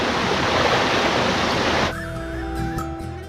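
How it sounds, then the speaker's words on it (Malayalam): Four-tiered Orekkar Falls near Konni in Pathanamthitta, Kerala, gives a dense, steady rushing roar that cuts off abruptly partway through, leaving quieter background sound with faint steady tones. "അങ്ങനെ 4 തട്ടിലുള്ള വെള്ളച്ചാട്ടമാണ്."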